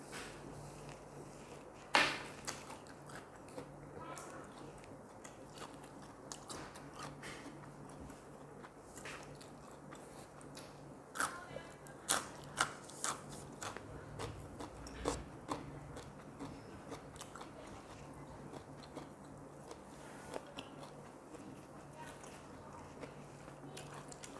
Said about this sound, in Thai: ก็จะกินหอมแดงไปเลย